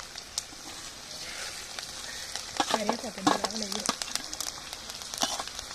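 Spices tempering in hot oil for village-style pulihora, a steady close sizzle with crackling bursts and stirring in the middle, under faint speech.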